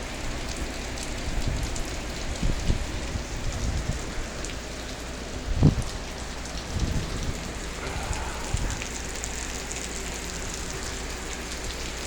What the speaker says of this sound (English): Damn, it's raining here again.